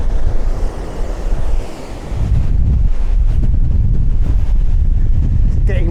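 Strong wind buffets the microphone by the sea at a surf beach, with a constant roar of waves and surf underneath, loud and unbroken.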